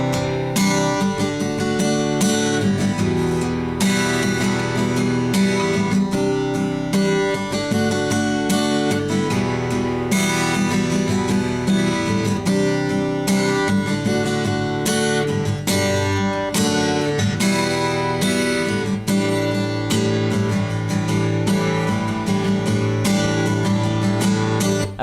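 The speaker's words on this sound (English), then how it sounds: "I'm going to demonstrate it to you now in slow motion." Acoustic guitar strumming the bridge of a song at a slowed pace, full sustained chords ringing loud and close in a steady rhythm with clear strum attacks, no voices.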